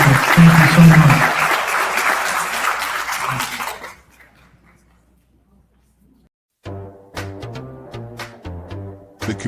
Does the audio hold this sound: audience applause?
yes